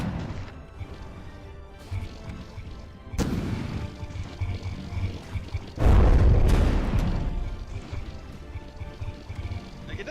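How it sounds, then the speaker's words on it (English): Naval guns on competing frigates fire shells in a From the Depths battle, heavy booms and crashes landing in bursts over continuous rumbling, the loudest blast arriving near the middle. "Those guns on the Nibbler do significant damage to the Protostar."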